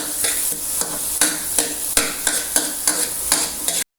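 Garlic and ginger sautéing in butter in a pan, a steady sizzle broken by regular scraping strokes of a utensil stirring about twice a second, close and fairly loud with no talking.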